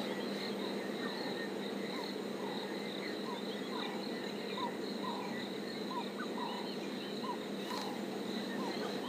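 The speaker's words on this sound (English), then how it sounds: "I can hear already in the background this 360-degree frog noise" A dense nighttime chorus of frogs and insects in the African bush surrounds the listener, with repeated short chirping calls standing out over a steady buzzing drone.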